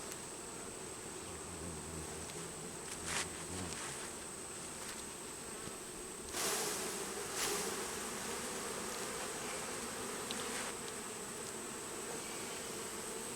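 A steady, close drone of honeybees buzzes around an open beehive during honey frame inspection, with a few louder swells as bees pass near.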